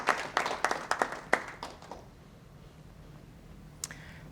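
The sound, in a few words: audience applause at a meeting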